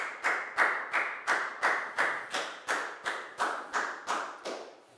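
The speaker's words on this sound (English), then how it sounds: "High five and a big round of applause for Nadia, please, guys." Eleven evenly spaced bursts of clapping ring out in a steady rhythm, a group of hands striking together in unison.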